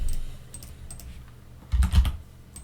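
Typing on a computer keyboard in a terminal, with a steady run of light key clicks that builds into a louder, denser burst of keystrokes near the end, close and alone.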